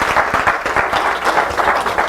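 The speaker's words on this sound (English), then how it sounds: "Let's give her a big round of applause." A church congregation at a fellowship meditation service breaks into a big round of applause for a woman, dense steady clapping from many hands held at a fairly loud, even level throughout.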